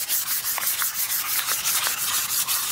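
Fine 3000-grit sandpaper rubs across a flame maple guitar top in a steady run of quick back-and-forth strokes, a close, even scratchy hiss with no voices.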